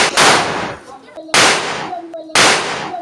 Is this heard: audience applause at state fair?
no